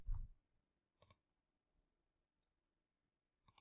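A few sparse computer mouse clicks, single crisp ticks separated by about a second or more, close and faint against near silence.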